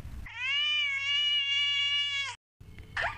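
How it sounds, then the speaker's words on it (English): A cat lets out one long, drawn-out meow lasting about two seconds, loud and close, followed after a brief silence by a shorter, rougher cry. "Cat,"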